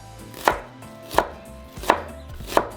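A knife chops through an onion on a cutting board in four sharp, evenly spaced strokes, each a crisp close thud with quiet gaps between, no talking.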